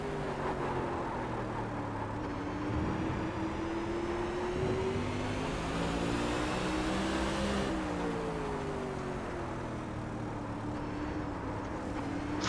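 Sprint car engines roar together on the Martinsville oval in the iRacing simulator, a continuous dense drone with rising and falling pitch as cars accelerate and lift around the short track, loud and unbroken throughout.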